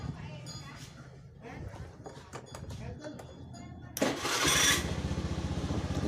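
A motorcycle with a weak, recently recharged battery is cranked on its electric starter, then the engine catches at once and settles into a loud, steady idle. Quieter handling noises come first.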